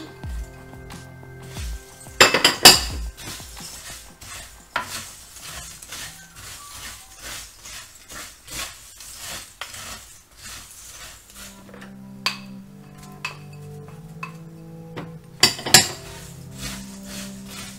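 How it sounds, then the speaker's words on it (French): Granola being mixed with fruits such as dates in a bowl, heard as soft scraping and light clinks of a utensil against the bowl, with a few sharper clatters, quiet and close. "Je vais pouvoir mélanger les fruits."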